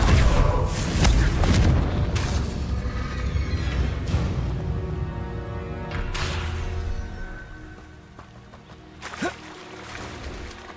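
Confringo fire spell blasts in the video game Hogwarts Legacy, a loud booming burst up front with rumbling crackle that decays over several seconds, a second whooshing impact around the middle and a smaller hit near the end.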